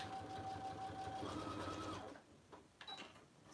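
Close, steady whir of a sewing machine stitching all the way around a messenger bag, running continuously before slowing and stopping, followed by a few soft handling clicks.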